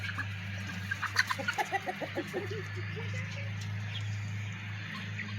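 Chickens and three roosters in a farm coop give a run of rapid, evenly spaced clucks near the start, then quieter scattered calls over a steady low hum.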